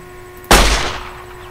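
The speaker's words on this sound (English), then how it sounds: "Let's try a K9000 Cyberdog gun." A single loud blast from the K9000 Cyberdog gun in a Gmod Fallout 3 weapons mod, sharp onset with a booming tail that fades over about a second.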